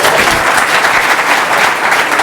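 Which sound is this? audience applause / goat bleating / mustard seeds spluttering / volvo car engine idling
audience applause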